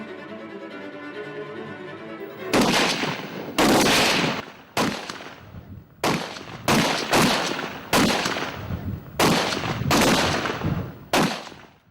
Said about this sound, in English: 60 seconds you have to fire all those 10 rounds